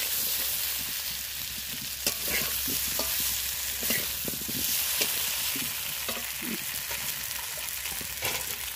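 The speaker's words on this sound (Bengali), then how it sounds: "আর দেখো আলু আমার ভাজা হয়ে গেছে, আলুগুলো আমি তুলে নেব।" Potatoes frying in oil in a kadai, a continuous close sizzle broken by repeated clinks and scrapes of stirring, moderately loud and steady, without speech.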